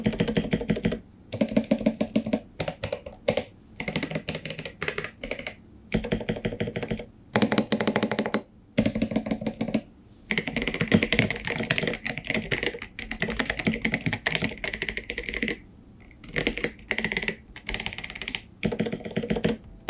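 Rapid typing on a Gamakay K87 mechanical keyboard with smooth linear switches, steady bursts of clacks separated by short pauses, close and fairly loud.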